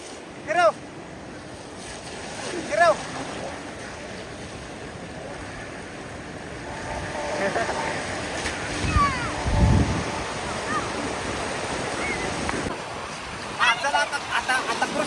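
Continuous wash of waves and wind against a moving boat, with bursts of microphone wind noise and occasional distant voices.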